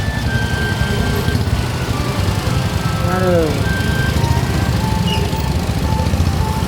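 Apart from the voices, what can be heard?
traffic jam on a city street in Bogor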